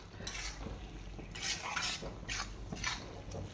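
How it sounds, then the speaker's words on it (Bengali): Basmati rice is fried with spices in a pan and stirred, giving a quiet continuous sizzle broken by repeated scraping strokes of the spoon against the pan. "বাসমতি চালটা দেওয়ার পর কিন্তু মশলাটার সঙ্গে ভালো করে ভাজতে হবে"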